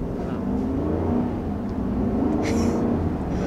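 A 2021 Chevy Silverado Custom Trail Boss pickup engine revs, a steady, loud, low rumbling growl heard close up with no one speaking over it.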